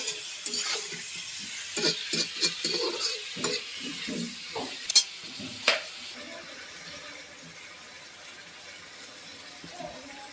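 Potatoes fry in a pan as they are stirred, with a steady close sizzle under repeated scraping and clattering strokes that thin out toward the end, and no clear talk.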